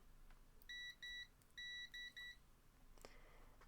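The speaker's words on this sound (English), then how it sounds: "And they're still beeping." Electronic beeping from a circuit being checked for shorts during soldering of a two-wheel car kit: five short, clear, steady tones in a quick run, the middle one longer, over a quiet background.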